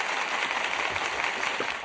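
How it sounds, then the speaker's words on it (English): A live audience claps and cheers to welcome a guest from No Limit Pythons onto a show, a steady, dense wash of applause that holds evenly throughout. "let me give you a nice round of applause"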